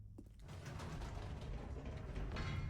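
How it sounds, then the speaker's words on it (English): An elevator travels in The Stanley Parable video game, a steady low mechanical rumble and hum with faint grinding gear texture that holds evenly from start to finish. "Goodness, another elevator."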